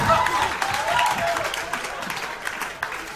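A comedy club audience claps in a steady wash of applause with crowd murmur, while a stand-up comedian's voice runs over it.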